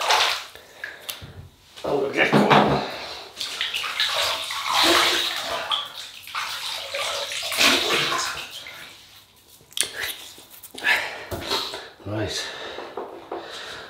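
Water runs steadily from a tap as a face is wetted before a wet shave, a fairly close, continuous splashing rush with small clatters, and someone talks over it throughout.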